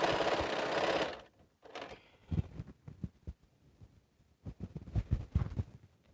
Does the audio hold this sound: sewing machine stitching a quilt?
yes